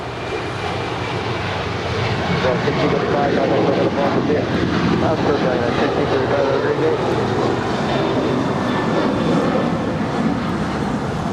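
United Boeing 737-900ER departing LAX for Washington Dulles, a steady broadband jet engine roar that swells slightly after the first couple of seconds and holds throughout, with no talk over it.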